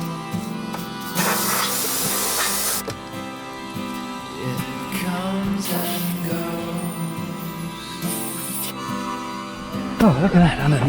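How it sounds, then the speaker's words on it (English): Water sprays in bursts under a car to flush out seeds, hissing loudly in several separate blasts with pauses between, while someone talks nearby. "I've got one left to swell up and I'll spray it out with water"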